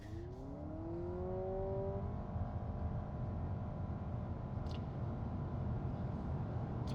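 A 2025 Honda Civic Hybrid Sport Touring launches hard from a standstill on a 0 to 60 run. Heard from inside the car, a steady engine drone rises in pitch at the start, then holds under road noise.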